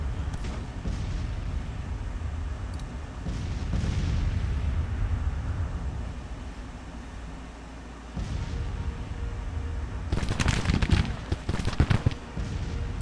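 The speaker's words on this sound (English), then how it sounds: "There goes the Louisiana Tigers firing on them with those Derringers" Louisiana Tigers fire Derringers in a Civil War battle game, a continuous rumble of distant musketry with scattered sharp reports, swelling around four seconds and again into a dense crackling volley near the end.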